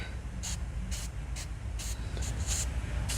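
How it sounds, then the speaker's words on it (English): Six short bursts of silicone spray lube hissing from an aerosol can onto connector sliders, each under half a second, irregularly spaced over a low steady background rumble. "I'm gonna use some silicone spray lube, try to get it on the sliders,"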